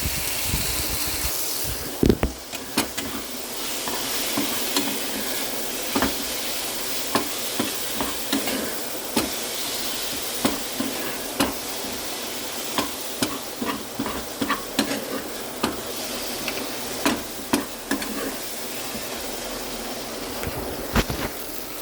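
Stuffed brinjal curry, a ginger-spiced vankaya allam karam, fries in a pan with a constant bright sizzle. A spoon clacks against the pan in regular knocks as it is stirred, and no one speaks.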